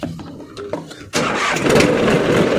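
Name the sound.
tractor engine starting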